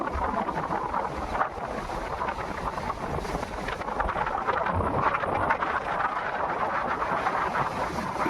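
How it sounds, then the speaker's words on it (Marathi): Strong gusty wind at the start of the first monsoon rain in Konkan, roaring steadily with buffeting microphone gusts, near and loud throughout, as if tearing through tree leaves by a creek. "झाडांची पानं सोसाट्याच्या वाऱ्यामुळे कशी हलतायत."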